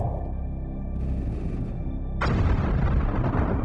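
Fighters strafing a target in the space game Homeworld, dense rapid weapon fire rumbling continuously, then growing louder and harsher partway through as more guns join.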